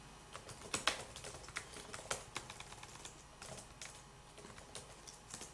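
Keys clatter on a computer keyboard as a command is typed, an irregular run of light clicks with a few sharper strikes, close and fairly quiet, with no voice over it.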